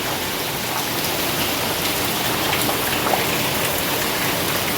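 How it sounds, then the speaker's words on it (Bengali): Heavy rain pours down steadily, a dense, unbroken hiss with no pauses and no voices, close and loud throughout. "খুব জোর বৃষ্টি এসছে,"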